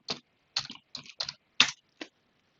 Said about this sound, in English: Then I'm entering Ricky, username, password